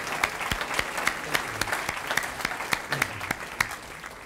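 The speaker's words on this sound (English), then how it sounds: "all of you deserve a big round of applause" Applause from guests at an education foundation legacy honor luncheon, with distinct individual claps standing out over a steady patter, moderately loud and unbroken.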